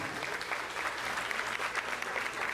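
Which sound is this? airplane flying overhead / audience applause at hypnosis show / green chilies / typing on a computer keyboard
audience applause at hypnosis show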